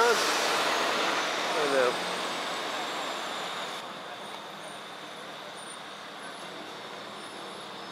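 A tow truck rolls in at a DWI checkpoint on Route 9 in Manalapan, as a steady heavy engine and road rumble slowly fade over several seconds while someone speaks briefly above it.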